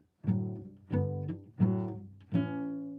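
Four chords strummed one after another in a slow progression, each ringing briefly before the next, with no voices.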